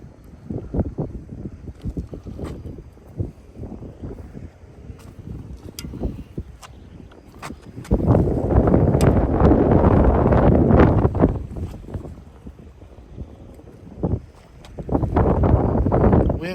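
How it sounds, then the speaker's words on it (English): Wind rising outdoors at a fishing pier in Dania Beach on a rainy, cloudy day, buffeting the microphone in loud rumbling gusts that swell and ease in waves. "Wind's starting to pick up."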